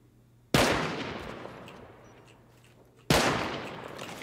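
An automated turret in Rust fires two sharp bursts a few seconds apart, each a loud sudden crack with a trailing decay, over otherwise quiet surroundings.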